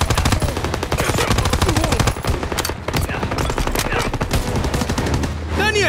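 Rapid machine-gun bursts and rifle shots crackle continuously in the World War II shooter Call of Duty WW2, a loud, dense fusillade with shouting voices mixed in.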